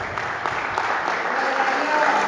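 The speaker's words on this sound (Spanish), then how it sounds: "denle un aplauso a mi esposa" An audience at a church ministry training class claps steadily and fairly loudly throughout, a continuous even burst of applause without clear speech on top.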